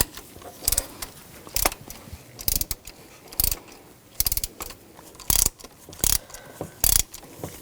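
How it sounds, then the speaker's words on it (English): A ratchet fitted with a 5mm hex socket backs out the camshaft position sensor bolt on a 2000-2006 BMW X5, giving sharp bursts of ratcheting clicks at an irregular pace, separated by short pauses, close and fairly quiet. "I'm going to use a 5mm hex socket and take this bolt out."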